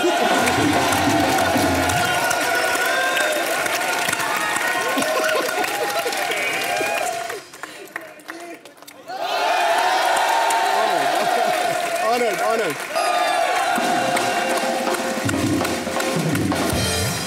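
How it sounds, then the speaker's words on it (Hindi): A large crowd at a Bollywood entertainment event cheers and applauds an actress: loud, sustained clapping mixed with shouts and whoops, broken by a brief drop in sound partway through before the roar resumes at full strength. "तो एक बार तालियां हो जाए मल्लिका के लिए।"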